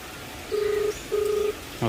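Two evenly spaced ringback tones sound through a phone line, each about half a second long, against a soft hiss.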